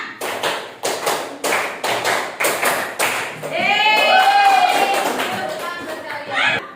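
Sharp rhythmic hand claps in a counting pattern during a classroom religious lesson, a series of distinct strikes over the first half, then a voice sustains a tone alone.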